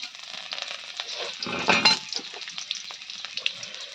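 A short burst of close sizzling from pangasius fish frying in a pan with green chilies and onion, hissing and spitting briefly with a louder surge in the middle.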